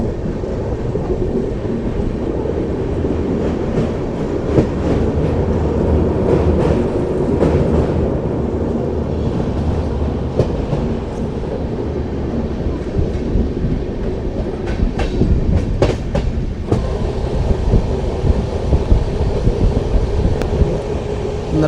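A train rolls at good speed on the approach to Narwana station after crossing a small bridge on the outskirts, with a steady loud rumble, rhythmic clickety-clack of wagons and some wind buffeting throughout.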